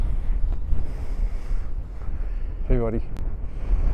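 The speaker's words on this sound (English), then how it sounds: "It's a good wind clipping now" Steady wind blowing across an open field at a falconry outing, a constant loud rushing buffet on the microphone throughout, with a brief spoken call partway through.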